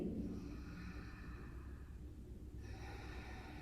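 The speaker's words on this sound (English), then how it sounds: "And here's pelvic floor breathing." A slow, deep pelvic floor breath demonstrated during tantric breathwork training, a soft airy inhale and exhale heard close up and alone, with no talking.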